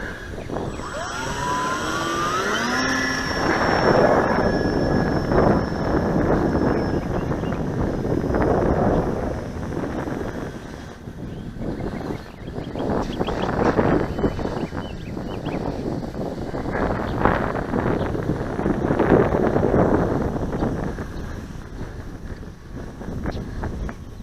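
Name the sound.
gusty wind blowing across the microphone outdoors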